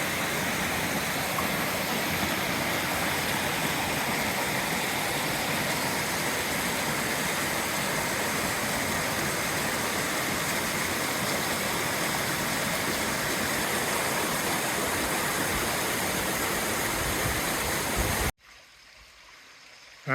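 Pearl Cascade, a small waterfall in Crawford Notch running low, pours into a pool with a steady, full rushing wash heard up close for nearly twenty seconds before the sound drops away suddenly.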